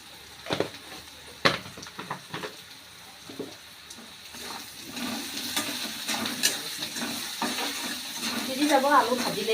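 Potatoes fry in a pan as they are stirred. A few sharp scrapes and clatters come first, then a hissing sizzle that grows louder and busier toward the end.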